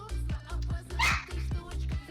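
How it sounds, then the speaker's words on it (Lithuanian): A dog barks at home in a quick run of about seven sharp, regular barks, moderately loud and fairly close, with no talk over them. "Čia pas tau šuo?"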